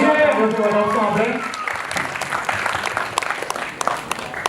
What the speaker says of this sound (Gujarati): જોરદાર તાળીઓ થવી જોઈએ.